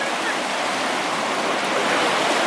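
Cold river water rushing steadily where a clear tributary joins the milky Katun in the Altai Republic, a dense, continuous close roar of flowing water with no pauses.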